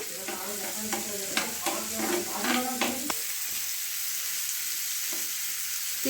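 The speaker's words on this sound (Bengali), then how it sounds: "আমি কিছু এখানে চপড গার্লিক আছে, সেটা সতে করে নিচ্ছি।" Chopped garlic sautés on a hot plate for egg salsa: a few scraping stirs over a busy sizzle, then a quieter, steady fry.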